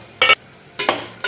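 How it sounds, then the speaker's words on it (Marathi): Cashews and almonds tossed into a pan with fresh coconut being roasted for a sweet lapshi, giving three short bursts of sizzling and stirring scrapes close by, with quiet gaps between them. "आता त्याच्यामध्ये काजू आणि बदाम टाकले।"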